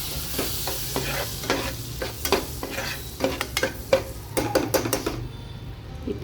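Cinnamon sticks, cloves and cardamom sizzle in melting butter in a pan. A spoon stirs them in steady, repeated scraping strokes over a constant loud frying hiss, and the sound drops away near the end.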